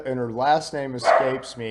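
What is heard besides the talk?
dogs barking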